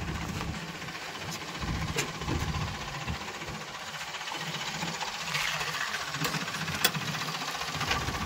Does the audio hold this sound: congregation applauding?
no